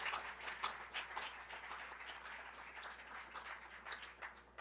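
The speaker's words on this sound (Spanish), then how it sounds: "Denle un aplauso al Señor, por favor." A church congregation claps together, a faint, steady patter of many hands held at an even level throughout, fairly distant and with no voices over it.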